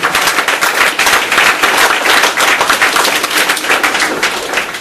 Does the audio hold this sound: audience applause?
yes